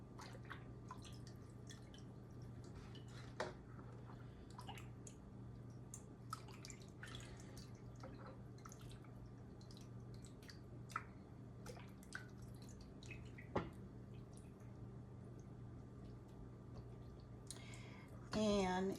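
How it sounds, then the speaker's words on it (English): Whey from homemade mozzarella curds drains through cheesecloth into a bowl, close by and quiet, as scattered soft drips and small trickles fall over a low steady hum, with a brief louder splash at the end. "now we're separating the whey from the mozzarella"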